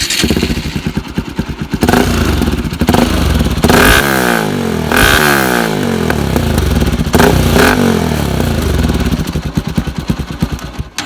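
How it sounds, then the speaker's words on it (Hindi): A Bajaj NS200 motorcycle fitted with an aftermarket exhaust and a dB killer idles with a close, loud, lumpy putter, then revs hard several times with rising and falling throttle blips before settling back to a choppy idle. "एक बार NS 200 का साउंड सुनाते हैं। DB किलर इसमें लगा हुआ है।"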